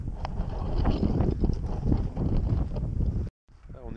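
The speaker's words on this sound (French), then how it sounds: "Il y a du vent." Gusty wind buffets the microphone in loud rumbling bursts on a cold mountain pass at 2069 metres, the Col du Lautaret, then cuts out abruptly into near silence near the end.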